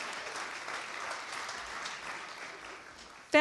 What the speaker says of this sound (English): you can go ahead and clap for the Soul Scribes.